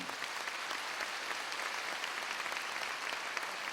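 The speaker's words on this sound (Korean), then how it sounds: "여러분들이 우레와 같은 박수로 박수 한번 쳐주세요" Steady, dense applause from a large audience, continuous clapping at even volume throughout.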